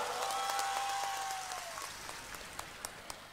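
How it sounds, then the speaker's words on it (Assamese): An audience at a public gathering claps its hands, a dense patter of applause that thins and fades over a few seconds, with a faint voice or tone at the start. "ভাল কৰি হাত চাপৰি মাৰ"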